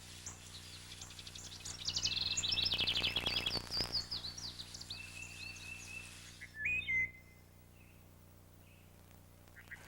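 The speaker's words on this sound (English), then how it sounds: "I hear a wood thrush back here. Oh, yes, he's Singing, wonderful." A wood thrush sings fluty, melodic song with ringing, varied phrases in bursts, fairly close, then quieter scattered calls in a still background.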